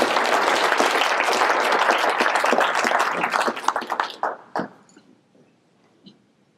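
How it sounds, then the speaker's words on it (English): A breakfast audience breaks into applause for SB 21 at a senator's speech: sustained, dense clapping that thins into scattered final claps and then falls quiet. "Please give an applause to SB 21."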